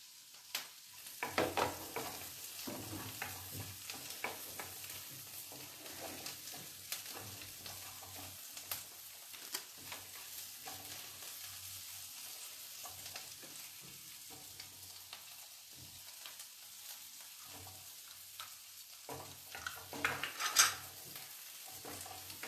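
Ginger and green chillies frying in a pan for a vegetarian dish, a quiet, continuous sizzle with intermittent stirring and scraping, including a louder clatter near the end.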